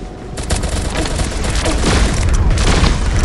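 Pistol fire in the Pixel Gun 3D video game rattles off as loud, dense, rapid repeated shots with booming impacts, continuous through the whole stretch.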